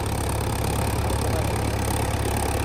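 A tractor engine idles steadily with no load, a close, continuous low rumble that stays even throughout with no voices.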